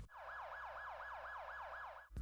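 A firefighter brush truck siren in the game Anomic wails in a fast, steady up-and-down cycle, about eight even sweeps, loud and alone until it cuts off abruptly.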